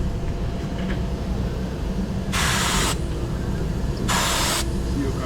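A Fuji spray gun spraying Awlcraft 2000 paint gives two loud, even hissing bursts of about half a second each, over a steady low rumble of compressor or room noise.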